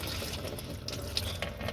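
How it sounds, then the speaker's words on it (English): Antifreeze pours out of a heater hose on a Toyota Sienna, a short, steady splashing and trickling of liquid heard up close, with no speech. "Antifreeze is coming out."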